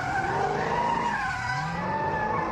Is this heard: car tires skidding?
yes